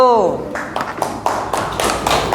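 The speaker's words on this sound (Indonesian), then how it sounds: "tepuk tangan buat kelompok 1" A classroom of students claps for a student group after a spoken line, a short, uneven burst of a few sharp claps that thins out quickly.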